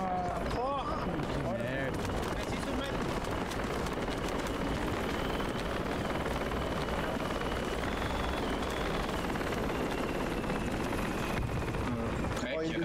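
Helicopter rotor noise in the military video game Project Reality 2, a steady loud churning drone that runs throughout, mixed with game sounds and overlapping talk.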